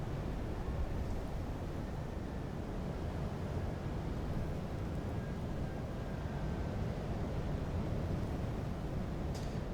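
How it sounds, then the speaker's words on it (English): Steady wind blows hard across an outdoor microphone, a continuous low rumbling buffet that stays loud and even throughout with no voices. "Oh, so windy."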